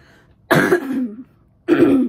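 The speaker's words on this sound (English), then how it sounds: "I need a cough, hold on." Two short, rough coughs, one after the other with a pause between, close and fairly loud in a quiet room.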